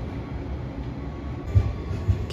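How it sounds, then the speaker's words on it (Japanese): A JR West 113 series local electric train at Kitanagase station, a steady low rail rumble with two brief heavier thumps near the end, like wheels over rail joints, with no voices. "北長瀬駅11時6分から7分発着普通列車三原駅113"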